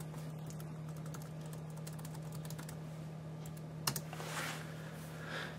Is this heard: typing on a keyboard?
yes